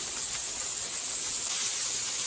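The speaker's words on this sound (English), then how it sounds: "I'm going to go ahead and put my scallops seasoned side down in the pan" Seasoned scallops seared seasoned side down in a hot pan over raised heat, giving a steady, loud, close hiss that holds evenly throughout without a break.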